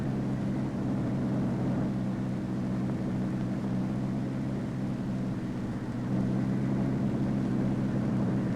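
Convair model 7002 research airplane in flight after takeoff, a steady continuous engine drone with a low rumble that holds even throughout, growing slightly louder near the end, with no voices.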